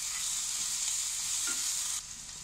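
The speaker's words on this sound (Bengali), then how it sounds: "পেঁয়াজটাকে ভালো করে ভেজে নেব" Onion and grated ginger frying in hot oil for a rava upma, a steady close sizzle with light stirring scrapes, easing slightly toward the end.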